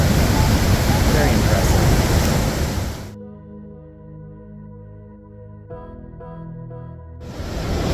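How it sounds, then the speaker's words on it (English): Yellowstone's Upper Falls roars as a broad, loud wash of rushing water, cutting out abruptly midway to a quieter tonal stretch before the full roar returns at the end. "That's a lot of water rushing over that waterfall."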